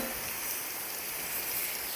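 Rain falling outside in a Gujarati village near a highway market, a steady, even hiss of drops on surfaces with no break and no voices.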